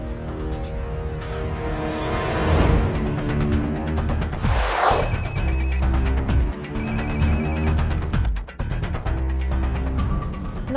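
A telephone keeps ringing unanswered in a crime drama scene, repeated electronic rings sounding under a loud, dramatic music score with no voices.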